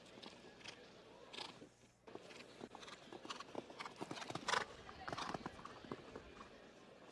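Horse hooves strike the arena footing during a 1.55m FEI 5* show jumping Grand Prix, irregular thuds and clops at moderate distance with a commentator talking over them.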